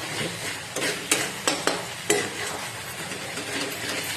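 Mutton curry frying in oil while being stirred, with a steady broadband sizzle and several sharp scrapes of a spoon against the pan at irregular intervals.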